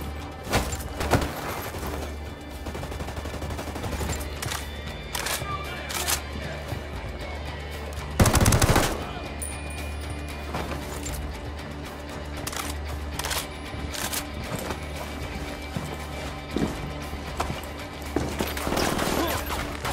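Gunfire in Ghost Recon Wildlands, played on extreme difficulty: sporadic shots and bursts crackle through the battle, with one loud blast standing out near the middle and scattered impacts before and after.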